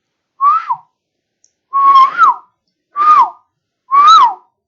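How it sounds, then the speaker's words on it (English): A person whistles four short rising-and-falling notes, close and clear, with brief pauses of silence between them. "Now I whistle,"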